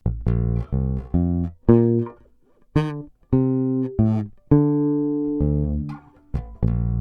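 An electric bass plays uneven, choppy notes, some clipped short and others ringing on, with gaps and stumbles between them. No voices.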